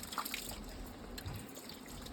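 Tap water runs in a steady, soft stream while sea fish is washed clean in a home kitchen before frying, a continuous gentle splash with no voices.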